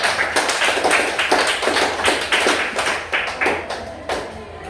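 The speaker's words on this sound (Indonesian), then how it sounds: "kita berikan tepuk tangan" A classroom audience bursts into applause at the close of a teacher's presentation, a dense, steady clapping that carries on for several seconds and fades slightly toward the end, with no voices over it.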